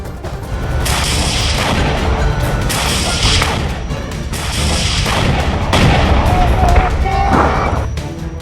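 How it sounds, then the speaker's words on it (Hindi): Grenade launcher fire in Gaza combat between Hamas fighters and Israeli troops, with loud repeated booms and bursts of gunfire spread across about eight seconds. "हमास आतंकी ग्रेनेड लॉन्चर के साथ इजरायल की सेना पर हमला करते दिख रहे"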